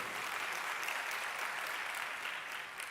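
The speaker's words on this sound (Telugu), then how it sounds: "చప్పట్లు కొట్టి వేసానని మహిమపరచండి." A church congregation claps hands together in worship, a dense, steady roar of applause from many people filling the room for a few seconds without pause.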